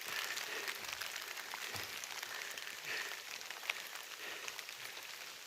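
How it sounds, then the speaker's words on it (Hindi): Heavy rain falls on a mountain trail near the snow line on the Dhauladhar range in Himachal Pradesh, a constant dense hiss of drops with no breaks, with faint scattered taps close by and no talking. "सब लाइन में चले हैं, बारिश तेज़ हो गई है।"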